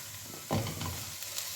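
Raw potato pieces tipped into a hot pan with chicken, zucchini and peppers, giving a sudden burst of sizzling that settles into a steady frying hiss.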